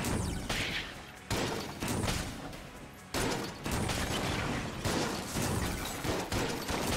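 Continuous rattling volleys from the Crown of Guns in Enter the Gungeon, a dense, steady stream of shots held for long stretches with brief breaks, moderately loud.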